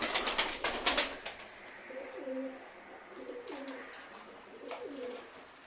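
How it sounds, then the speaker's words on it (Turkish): A short burst of fluttering or clattering opens, then soft, low pigeon coos repeat three times at a gentle pace in a quiet coop. "Ben de diyorum bu kuş şampiyon nerede"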